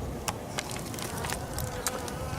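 Honey bees at a New England hive buzz steadily in a dense close hum, with individual bees flying past the entrance now and then, and no voices.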